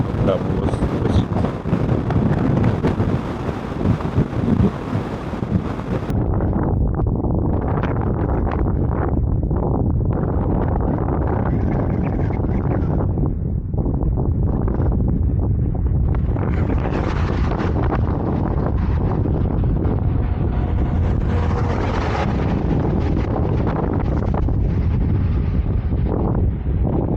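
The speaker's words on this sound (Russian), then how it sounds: "Такой ветер, что я даже байк постоянно держу под наклон в левую сторону" Strong gusting wind roaring across the microphone while riding a motorbike on a road in Iran, a loud continuous buffeting rush with someone talking over it throughout.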